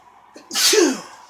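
A single sharp sneeze, close and loud, with a short intake of breath before it during a wrestling broadcast commentary, followed by quiet.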